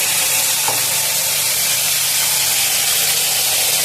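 Broad beans fry in a pan seasoned with salt and turmeric, giving a steady, loud, continuous sizzle with a constant hiss and no voices.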